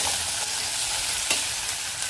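Raw banana pieces sizzle in hot oil as they are stirred in a pan for a banana gravy curry, a steady crackling fry with soft scraping from the stirring.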